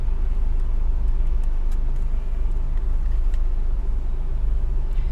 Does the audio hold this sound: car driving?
yes